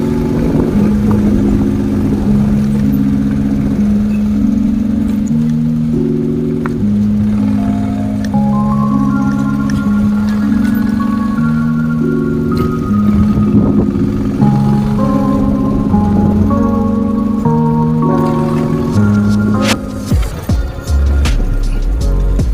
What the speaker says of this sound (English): And this is heavy duty machine guys, so I'll ride this bike,